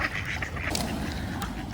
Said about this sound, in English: Here's a mummy duck with some baby ducks coming in there